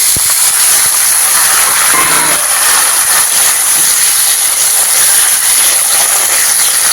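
Tomato added to fried onions in a hot pan gives a loud, continuous, close-up sizzle and hiss that stays steady throughout.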